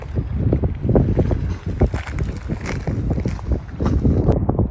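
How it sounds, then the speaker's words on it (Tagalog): Strong wind gusting outdoors at night under the northern lights, buffeting the microphone in loud, uneven bursts that swell and fade close up. "Napakalakas ng hangin"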